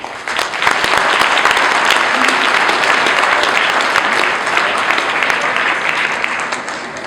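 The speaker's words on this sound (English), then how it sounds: "Let us give a big round of applause." A crowd claps in sustained, even applause at a Sewa Milan evening gathering. The clapping is dense and loud and carries on for several seconds without a break.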